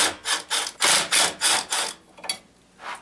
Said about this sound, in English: I'm going to use a Torx 20.